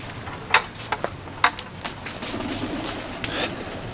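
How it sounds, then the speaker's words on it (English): Pigeons stir and flap inside a very dark building, a few sharp wing-clap bursts over a low hum, followed by softer rustling, fairly close. "Heard the birds."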